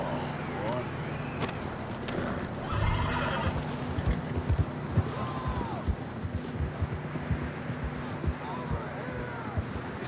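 In the video game Red Dead Redemption 2, horses whinny and hooves clip-clop steadily over a windy outdoor rumble, with a voice speaking briefly.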